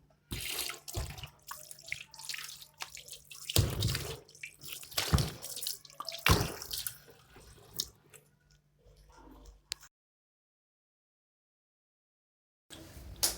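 Tap water runs and splashes over offal (heart and lungs) being washed by hand in a sink, close and uneven, then cuts off into silence before resuming briefly.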